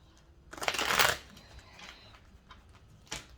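Tarot cards riffle-shuffled in one loud close burst lasting about half a second, followed by faint handling and a brief softer flick at the end, with no talking.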